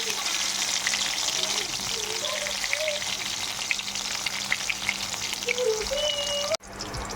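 Onions, garlic and cumin sizzle steadily in hot oil in a pan, a continuous close frying hiss with occasional pops that cuts off near the end.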